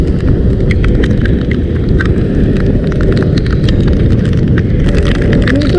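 Heavy typhoon rain pours down during a motorcycle ride through Quezon, a dense, constant roar of water and wind noise that stays loud and unbroken, with scattered sharp drop impacts and no talking.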